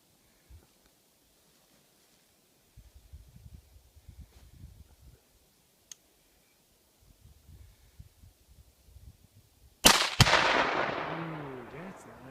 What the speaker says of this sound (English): Jordan's shooting about 90 yards away at a 2-pound Tannerite jar.